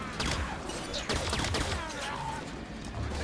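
Rapid turret gunfire from Halo 5: Guardians rattles in dense bursts with sharp repeated cracks, loud and continuous, mixed with game effects and a player's voice.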